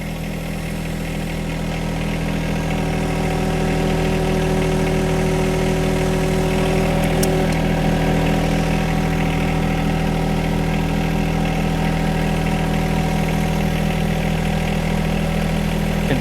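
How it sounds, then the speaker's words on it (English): A John Deere 1025R compact tractor idles close by with a steady droning hum while its front loader is lowered, the engine note swelling slightly in the first seconds then holding constant. "Pushing down on the hydraulic controls, we'll walk the loader down."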